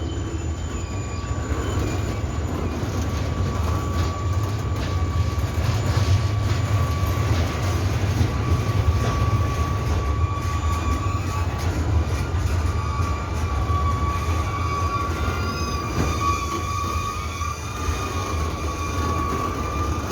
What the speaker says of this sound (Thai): ขบวนรถไฟ